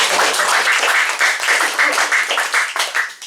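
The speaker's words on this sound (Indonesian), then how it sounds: "Mari kita tepuk tangan untuk beliau-beliau" Applause from a church community gathering honoring outgoing leaders, a crowd clapping loudly and steadily, the claps growing more distinct and pulsing toward the end.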